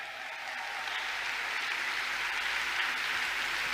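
An audience at the WCIT 2019 closing ceremony gives a round of applause for Women in Tech, a steady, distant wash of clapping at low volume.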